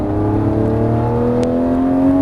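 A Lamborghini Murciélago engine roars steadily with a rising whine, loud and close, as the car accelerates on the Las Vegas Motor Speedway track; no voices.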